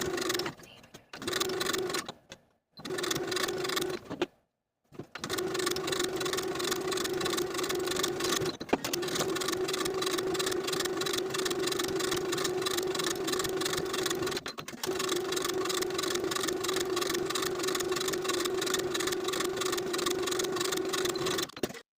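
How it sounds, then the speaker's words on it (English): A sewing machine runs steady rows of topstitching on a gathered neck-ruffle blouse, with a continuous hum that pauses briefly a few times early on and then runs long and unbroken. "Now we're going to be sewing 3 rows of top stitching between our basting stitches."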